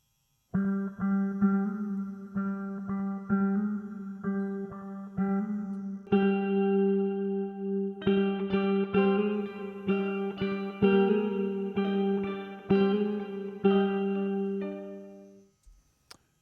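A low, effects-laden electric guitar plays a repeating picked run an octave down, then shifts higher and busier midway before fading out.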